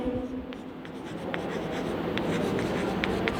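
Pen scratching steadily across paper while a letter is written during an English lecture, a close, continuous run of small strokes with no talking.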